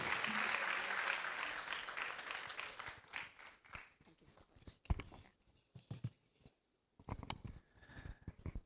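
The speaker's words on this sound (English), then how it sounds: "Let's welcome you with a bigger round of applause" An audience at a university debate championship applauds to welcome a professor, with loud, full clapping at the start that thins out after a few seconds as scattered claps and a speaking voice take over.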